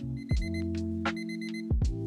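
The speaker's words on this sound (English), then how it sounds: "There's the timer," A cooking timer alarm rings in quick repeated electronic beeps alongside a steady tonal hum, with a few short clicks or knocks in between, fairly clear and close with no talking.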